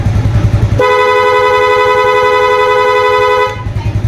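A motorcycle horn sounds one steady, loud, close blast lasting close to three seconds, with engine idle rumbling before and after it in a roadside repair check.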